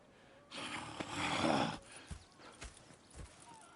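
In a video game, a horse whinnies loudly in a drawn-out neigh, then hooves clip-clop in a few sparse, quiet steps with soft snorts.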